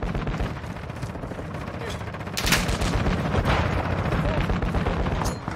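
Gunfire in a Team Deathmatch match of Modern Warfare II (2022), dense rapid automatic bursts and explosions close and loud throughout, with brief talk mixed in.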